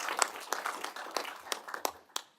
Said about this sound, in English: So I think a round of applause to Barry for the excellent work.